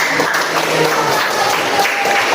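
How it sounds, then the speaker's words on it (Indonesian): Classroom applause from a group of junior high students, a steady dense wash of hand clapping filling the short moment at a fairly loud, even level with no voices over it. "Iya, baik, tepuk tangan."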